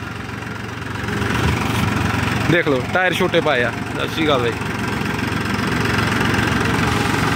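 A New Holland 4x4 tractor, a 75 hp 4WD model, idles with a steady low diesel rumble close by, while someone talks over it for a few seconds.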